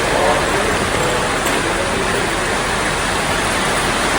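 Steady, dense hiss of rain pouring down without a break, loud and close, with a low rumble underneath.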